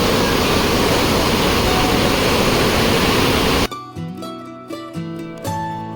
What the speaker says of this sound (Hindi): पार्वती नदी, मणिकरण साहिब